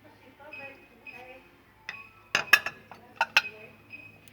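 Deep ceramic dinner plates clinking together as they are handled in a tableware shop, a few faint clinks early, then a cluster of sharp, bright clatters near the end, with a voice speaking softly at the start.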